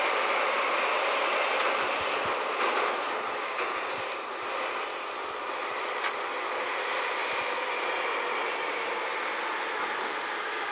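An 81-717 metro train runs along the Avtozavodskaya line from Kamennaya Gorka, heard from inside as a steady broadband rumble and rush of wheels on track, with faint clicks and a brief squeal, no talking.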